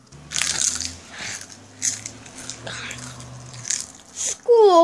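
Crisps being crunched, a series of sharp, irregular crunching bites with bright crackly bursts, loud and close, separated by short pauses, with a low background tone and a brief tonal sound at the end.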